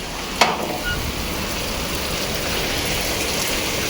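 Rain falls on an open rooftop terrace as a steady, dense hiss that fills the whole stretch, with one brief knock near the start and no voices over it.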